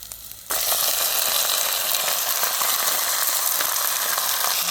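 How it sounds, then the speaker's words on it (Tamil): Ingredients sauté in a pan over a village wood fire, a dense, loud, close sizzle that starts abruptly and then holds steady without pause or speech. "இப்போ எல்லாம் நல்லா வதங்கிடுது"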